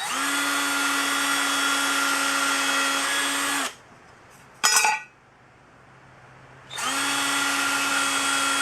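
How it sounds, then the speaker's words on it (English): Power drill boring pilot holes for screws in a DIY weighted sled build, a loud steady whir that stops, a brief clink in the pause, then spins up again, close and alone. "I got all the pilot holes drilled."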